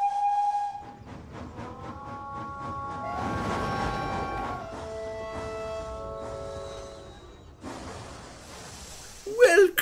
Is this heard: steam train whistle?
yes